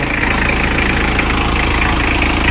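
A Mitsubishi L300's rebuilt engine idles close by, a continuous low rumble with a faint mechanical ticking and no change in pitch throughout.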